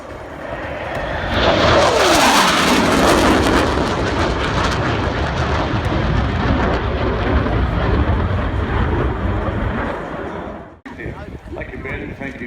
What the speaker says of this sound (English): It's the classic Hornet.